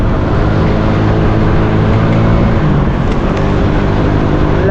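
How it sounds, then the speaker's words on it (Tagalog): Heavy rain drums steadily on a car moving through traffic in New Manila, a dense, constant wash of loud patter over low road and engine rumble, with no break across the stretch. "At umuulan, inabutan tayo ng ulan."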